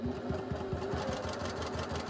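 A sewing machine stitches quilt fabric cut on the bias, its needle running in a fast, steady mechanical rhythm at close range with no talk over it.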